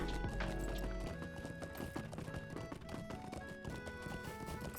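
Horse hooves clop at a quick, steady gallop in The Lord of the Rings Online, a continuous run of hoofbeats set over sustained background music.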